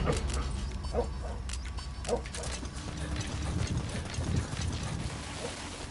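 A dog in a video game barks several times in short, faint yips that are spread out over a dense, steady background of game noise.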